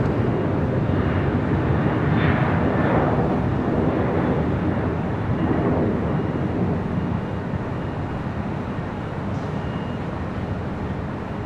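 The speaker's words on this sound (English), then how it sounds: "Taking off, that was Delta Airlines flight 2265" A Delta Airlines jet takes off at LAX, a loud continuous roar of engines that swells and then eases slightly as it climbs away, with no voices present.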